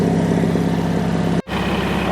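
A Bolens HT20 garden tractor engine idles steadily while warming up, a loud close rhythmic mechanical hum with a very brief dropout partway through.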